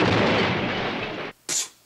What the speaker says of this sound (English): Cheech and Chong would have shown that explosion.